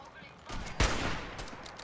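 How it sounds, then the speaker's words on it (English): Gunfire in the video game Fallout 4: a short flurry of shots with one sharp, loud crack in the middle, set against background noise and a faint voice. "Opening fire."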